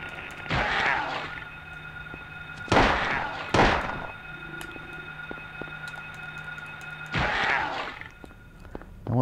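Handgun shots in a Silent Hill video game, four sharp, loud reports spaced irregularly over several seconds, two of them close together, over a steady humming background.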